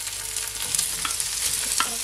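Steak bites fry in a pan with a loud, continuous close-up sizzle and light crackle, alone without any voices.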